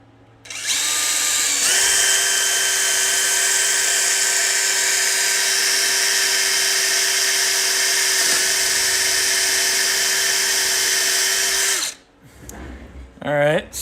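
A power drill with a bit runs at a loud, sustained high-pitched whine for about ten seconds while drilling, then stops, and a voice follows.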